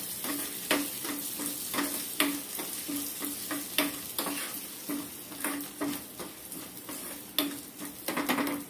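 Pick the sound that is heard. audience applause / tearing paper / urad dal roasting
urad dal roasting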